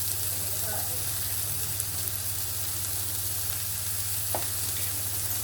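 Broccoli sautéing in coconut oil for a Kerala-style dish gives a soft, continuous sizzle over a steady low hum, with only an occasional faint clink from the pan.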